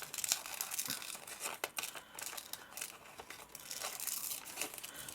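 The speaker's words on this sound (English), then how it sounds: "So let's just cut round her a bit." Scissors cutting around a paper figure, with soft crinkling and snipping close by, quiet and continuous throughout, with no talking.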